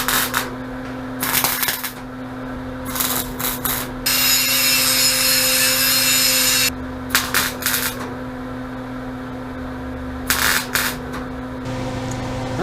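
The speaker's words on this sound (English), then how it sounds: "here's our extension. Going to weld that there." Welding on a push rod extension for the shifter of an LS-swapped 1983 Mazda B2000 gives a steady crackling hiss for a few seconds amid shorter sputtering bursts, close and loud over a constant electrical hum, with no talking.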